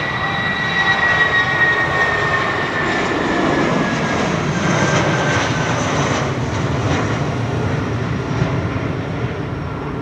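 An Air Mauritius jet departing London Heathrow on its last flight out, a loud continuous engine roar with a whining tone that holds steady and slowly shifts, heard alone without talk.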